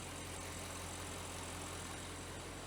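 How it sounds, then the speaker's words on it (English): An Audi 4.0 engine runs with the hood up, a steady, dense mechanical clatter from a loud valve train, with a constant low hum beneath it and no voices. "This engine valve train is pretty loud."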